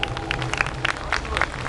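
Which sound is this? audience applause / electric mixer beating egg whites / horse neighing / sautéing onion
audience applause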